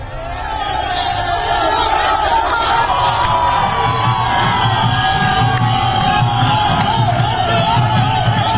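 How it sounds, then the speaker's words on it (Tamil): Indian cricket fans packed into a street after India's T20 World Cup win, a dense crowd roaring and shouting continuously at close range, with scattered whoops and children's voices rising above the steady din. "இந்திய அணி ரசிகர்கள் சாலையில் திரண்டு ஆரவாரம்"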